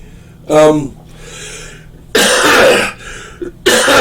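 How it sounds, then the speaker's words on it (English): A person coughs and clears their throat several times in harsh, loud bursts, with a voiced grunt before the first and short pauses between. "if I break out into a cough or have to get something to drink"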